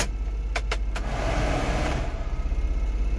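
Cabin blower fan of a Honda Acty 4WD kei truck running steadily, a broad whooshing rush filling the cab at close range, with a few brief clicks early on as the fan control is switched through its levels.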